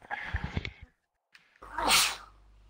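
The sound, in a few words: sneeze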